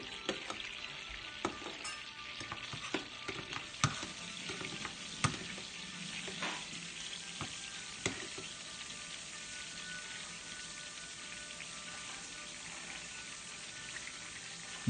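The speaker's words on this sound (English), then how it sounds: "We're rolling all the meatballs over, trying to get all sides browned." Meatballs frying in a pan at low volume, a steady fine sizzle with occasional sharp clicks and pops as they are rolled over to brown on all sides; no talking.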